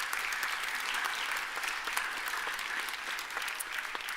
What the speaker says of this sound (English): please give a round of applause for yourselves for supporting us